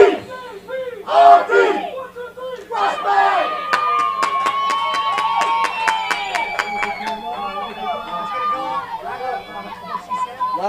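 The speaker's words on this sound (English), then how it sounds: "A lot of life in the crowd for JPRD West Bank." Lively crowd at a Dizzy Dean World Series youth baseball game, JPRD West Bank against the Miners, with shouting, chatter and a quick run of rhythmic claps, cheering steady under close announcer-style talk.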